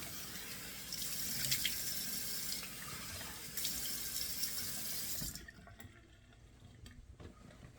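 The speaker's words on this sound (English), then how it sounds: "So we turn on the sink here. Straight cold water." Cold water runs from a bathroom sink tap in a steady, close splashing rush that stops partway through, leaving quieter dripping and handling sounds.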